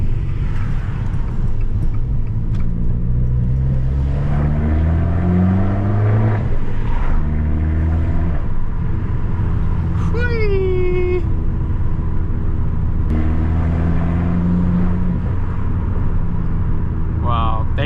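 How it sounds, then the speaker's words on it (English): A big V8 car engine revs and drones past with a rising, smooth note, loud and close, while people talk over it. "This is the big V8 I heard driving through town."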